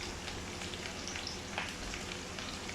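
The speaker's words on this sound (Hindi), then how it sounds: "बस मैं इसका तड़का रेडी कर रहा हूँ।" Tempering for moong dal sizzles steadily in hot oil with garlic, a soft continuous crackle and hiss close by with no talk over it.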